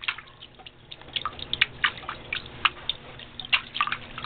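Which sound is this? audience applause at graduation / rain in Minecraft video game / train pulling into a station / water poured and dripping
water poured and dripping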